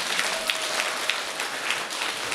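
An audience at a Sabantuy festival celebration claps in a steady, moderately loud round of applause, with the patter of many hands continuing evenly throughout.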